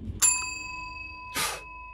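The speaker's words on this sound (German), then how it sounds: "vielleicht soll ich nochmal die Klingel betätigen" A doorbell in a horror video game chimes twice, a bright ding with a long ringing tail, then a second strike about a second later, each fading out in an otherwise quiet scene.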